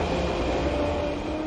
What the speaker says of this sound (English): Bullet train's back online and ready to roll.